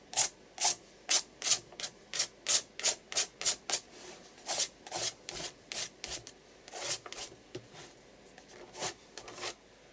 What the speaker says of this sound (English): I'm using a spatula just to scrape the colour across and up